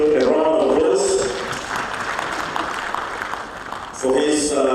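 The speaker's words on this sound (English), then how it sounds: "Let's give the Chair of Council a round of applause" An audience at a Lira University graduation ceremony in Uganda breaks into a few seconds of applause, a dense wash of clapping between stretches of amplified speech.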